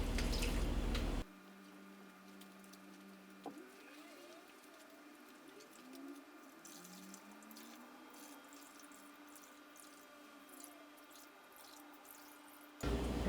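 Water rinsing and draining during galbi marinade preparation: after a brief burst of running tap water, a soft trickle and gurgle of water draining continues, ending with another short rush of running water.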